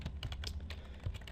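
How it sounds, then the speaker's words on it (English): Keys tapped on a computer keyboard in an irregular run of close, light clicks, with no talking. "As you can see, I'm typing H1 for header 1"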